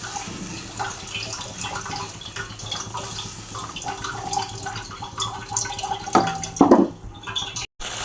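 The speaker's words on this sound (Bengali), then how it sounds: "এবার আমি সামান্য পরিমাণে জল ঢেলে দেবো, যাতে আলুগুলো সিদ্ধ হয়ে যাবে।" Water is poured into a pan of bhetki fish-bone and potato curry, a steady splashing pour that swells toward the end, close by with no talking.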